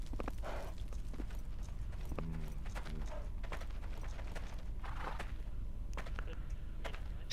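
Horse hooves clip-clopping in the medieval game Life is Feudal, a series of faint, irregular clopping steps set against steady background noise.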